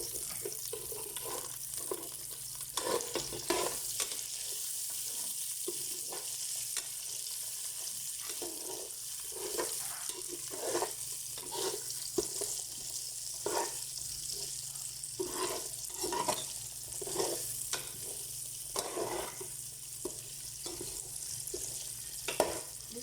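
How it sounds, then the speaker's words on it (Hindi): Potato pieces fry in hot oil for a fish biryani, giving a continuous close sizzle and crackle with repeated stirring scrapes and clinks from a spoon in the pan. "और इसके बाद हम आलू भी डाल देंगे। इसको हम फ्राई होने देंगे जब तक गोल्डन ना हो जाए"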